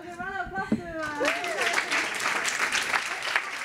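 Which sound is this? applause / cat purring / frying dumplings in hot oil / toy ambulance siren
applause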